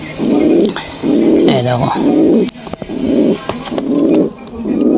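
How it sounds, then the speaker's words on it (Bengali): A male pigeon, kept in a loft setup at night alongside a nesting Giribaz pair, coos in loud, close, evenly repeated rolling phrases, with a brief spoken word between calls. "এটা ছেলে পায়রাটা।"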